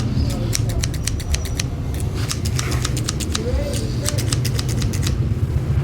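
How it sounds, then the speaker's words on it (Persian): Scissors snip through car seat cover material, a run of sharp rhythmic cuts in quick bursts with short pauses, set over a steady low background hum. "بدو قیچی رو برمیداریم، میایم شروع میکنیم به"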